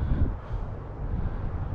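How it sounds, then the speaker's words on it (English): Low, steady rumble of wind buffeting the microphone while riding a Honda Goldwing F6B motorcycle, continuous and fairly loud with gusty swells throughout. "A little windy."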